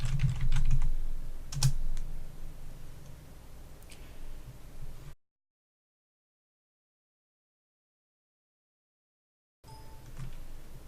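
Quick clicking keystrokes on a computer keyboard as a password is entered, close and distinct in the opening seconds, followed by a stretch of silence and then faint room tone.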